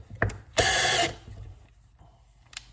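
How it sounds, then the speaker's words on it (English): A DeWalt Extreme 12V driver clutches out on a fastener, giving a short burst of rapid ratcheting clatter after a small click, then quieter handling sounds and a faint click at the end. "just to show you too that this also is going to clutch out"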